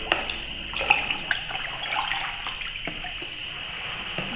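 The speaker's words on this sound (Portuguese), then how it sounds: "Aí vamos dissolver bem aqui o nosso amido de milho." Corn starch being dissolved in water for homemade liquid soap: soft, faint splashing and stirring of liquid in a container, with a few small clinks.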